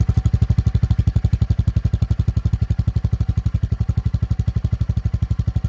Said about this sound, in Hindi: ये आइडलिंग पे साउंड सुनो